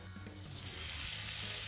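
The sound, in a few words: thin lamb slices sizzling in a hot pan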